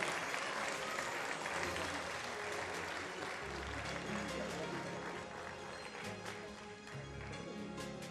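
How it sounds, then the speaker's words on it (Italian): Sustained applause from a crowd honouring award winners at the 2012 Panathlon sports event, steady and fairly faint at a distance, with some voices mixed in. "ancora un ultimo applauso ai protagonisti delle Panatliadi"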